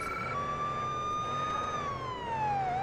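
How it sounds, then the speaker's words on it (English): A police car siren in Police Simulator: Patrol Officers wails loud and close, holding a steady tone and then sliding downward as it cycles, with engine rumble underneath. "I do like the cycling of the sirens."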